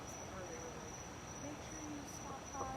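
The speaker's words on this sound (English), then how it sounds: "So let me just let you guys listen to the crickets." Crickets chirp in a steady, high continuous trill outdoors at night near a bonfire, faint and distant with soft background murmur.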